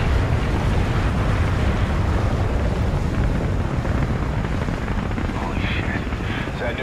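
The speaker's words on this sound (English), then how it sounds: "Chopper's incoming!" Helicopter in the Call of Duty Ghosts campaign near a river, a dense, steady rotor-and-engine roar filling the scene at constant loudness with wind-like rushing.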